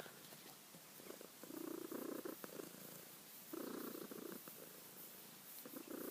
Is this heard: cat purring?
yes